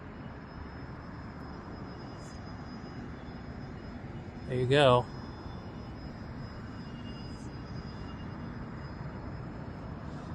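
A home-made Cub RC airplane flying overhead gives a steady, fairly faint motor drone that runs for the whole stretch, with a short spoken remark near the middle.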